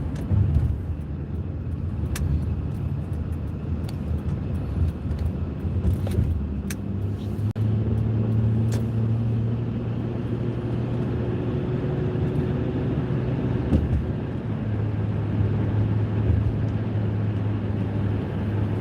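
A car driving along a road, giving a steady low engine and tire rumble from inside the vehicle with a few faint clicks and brief higher tones, and no talking.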